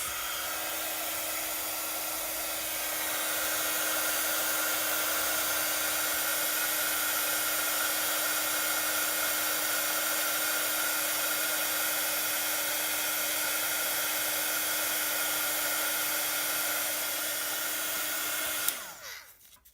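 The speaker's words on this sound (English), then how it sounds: "Right, heat emboss." A heat embossing tool blows hot air in a steady, loud whir with a constant drone that runs for most of the clip, then clicks off near the end and fades out.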